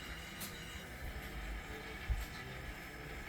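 Model train on an HO-style operating layout pulling forward during a switching session, a low steady rumble of motor and wheels with a brief clunk near the middle, fairly faint and continuous, no voices.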